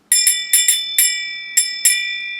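A small handbell rings in seven sharp, bright strikes, grouped irregularly in pairs and singles, each ringing out briefly, close and clear with no talk, marking a finished pair of shorty socks knitted by a podcast listener.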